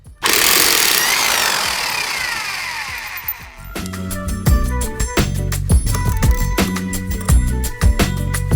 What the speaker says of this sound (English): the forward button actually controls the lead that causes the gun to spin in reverse